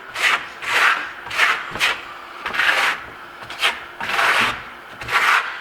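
Rough, gritty scraping of a trowel across textured Marmorino plaster with aggregate, repeated in steady back-and-forth strokes, close and loud with no voices.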